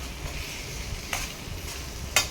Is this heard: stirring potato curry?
yes